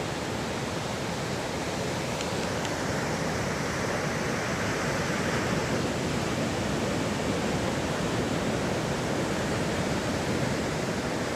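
Surf breaking on a San Diego beach at night, a continuous loud wash of rushing water with no distinct individual crashes, close and steady throughout.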